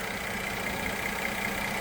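A 2017 Mercedes GLE 350 4Matic SUV with a V6 engine idles steadily in a short, even hum with a low rumble and a faint higher whine, heard close and on its own.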